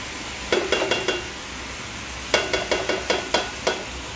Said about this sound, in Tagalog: So, haluin lamang.